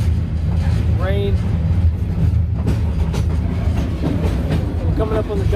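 A freight train rolls along wet rails in the middle of the night between Waycross and Augusta, a heavy continuous rumble close by with brief high metallic squeals from the wheels rising over the clatter.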